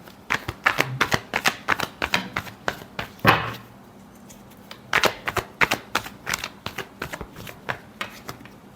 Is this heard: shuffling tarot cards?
yes